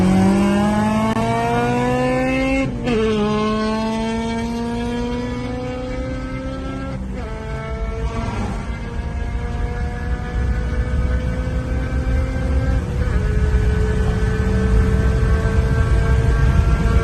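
BMW M3 with a 4-litre V8 racing a Honda Integra with a 2.4-litre K24 engine, loud engines revving through rising pitch sweeps with gear-shift breaks, sustained and close, with no talking.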